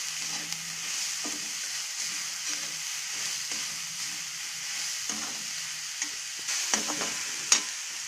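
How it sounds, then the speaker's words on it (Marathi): Shredded cabbage is stirred into a sizzling vegetable momo filling in a pan, a soft continuous frying hiss with intermittent scraping and tapping of the spoon, close and alone. "आता यात पत्ता गोभी टाकून घेऊ। मी छोटी पत्ता गोभी घेतली होती आणि हे मिश्रण 2 मिनिट मिक्स करून घेऊ।"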